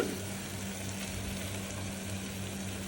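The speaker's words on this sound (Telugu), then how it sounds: "ఇప్పుడు మనం చికెన్ వేస్తున్నాము" Chicken frying in a pressure cooker with soft-cooked gongura leaves, giving a steady, low hiss of sizzling throughout with no voices.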